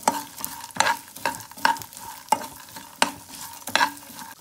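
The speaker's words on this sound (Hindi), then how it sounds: "मैंने इन मसालों को कुछ समय के लिए, आधे मिनट के लिए तकरीबन भूना और फिर इसमें चने को डाल दिया।" Chickpeas roast in a pan with asafoetida and cumin for hing chana namkeen. A spoon stirs and scrapes in a steady, repeated rhythm of about seven loud strokes over a soft sizzle, close up and with no talk.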